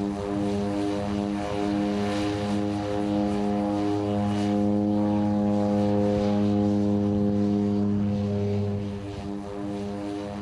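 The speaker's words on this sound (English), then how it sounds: "The way to get from St. Thomas to St. Croix is by seaplane." A propeller seaplane flying between St. Thomas and St. Croix drones loud and steady with a deep, even engine hum that holds throughout, with no talking.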